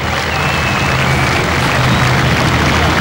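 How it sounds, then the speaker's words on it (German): Spectators applaud at a tractor pulling event with 3.5-tonne modified class tractors, with a dense, loud wash of clapping mixed with constant crowd and site noise and a low hum throughout. "wie wäre es erstmal mit dem Applaus für Thomas Zimmermann?"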